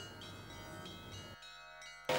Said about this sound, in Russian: сотрудники Международного центра колокольного искусства дали краткий мастер-класс по игре на колоколах